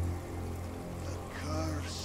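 Rain in the pirate video game Sea of Thieves: a dense, even hiss of falling rain with a low, steady rumble underneath, holding at a constant level throughout.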